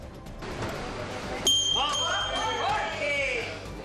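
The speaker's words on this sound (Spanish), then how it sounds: "Cada vez suena menos esa campana en bares y restaurantes." A bell in a bar rings out with bright, shimmering tones over a bustling background of voices.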